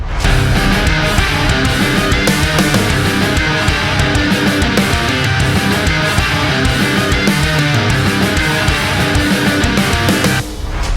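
An electric guitar runs through a Boss DS-1 distortion pedal and a Fortin Grind, giving a loud, dense and steadily sustained distorted tone that plays with no talk for about ten seconds before cutting off.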